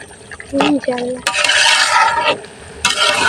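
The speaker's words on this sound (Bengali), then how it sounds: "আমি একটু ভালো করে নাড়া দিয়ে দিলাম" A utensil stirs and scrapes through khichuri rice in a cooking pot, giving close, rough rubbing strokes in bursts, after a short spoken phrase at the start.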